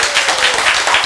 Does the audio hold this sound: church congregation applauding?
yes